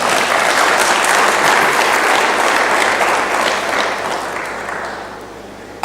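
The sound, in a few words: audience applause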